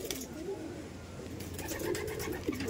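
Racer-type pigeons coo softly and continuously in a loft, low murmuring calls rising and falling close by, with faint background noise and no speech.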